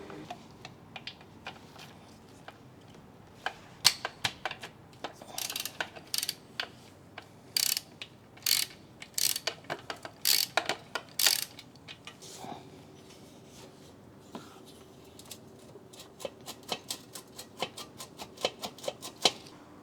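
A ratchet with an extension loosens a 12 mm bolt on a Husqvarna Svartpilen 401 motorcycle, producing bursts of rapid, close metallic clicking with pauses between strokes, then lighter scattered clicks.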